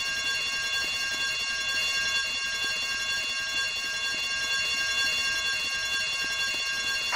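Alarm bell rings continuously inside a building during a bank heist in the Vice City video game, a steady, loud, unbroken ringing with faint background noise and no talk.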